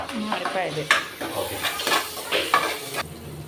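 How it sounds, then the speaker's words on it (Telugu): Chicken frying in a pan sizzles close by while a utensil stirs it with repeated clinks and scrapes against the metal, and a voice speaks over the cooking. "పచ్చి వాసన పోయేంత వరకు వేయించుకోవాలి గుర్తుపెట్టుకోండి"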